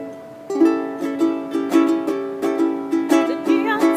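A ukulele strums a chord progression in a steady, even rhythm, each bright strum ringing out clearly and alone at close range.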